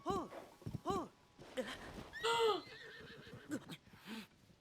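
Horses neigh repeatedly in the video game Tears of the Kingdom, several loud whinnies close by with hoof clip-clops and some talking in between.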